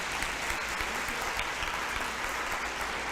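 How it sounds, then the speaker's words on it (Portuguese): Steady, dense applause from a church congregation, sustained and even throughout with no pauses. "Aplauda o Senhor em nome de Jesus."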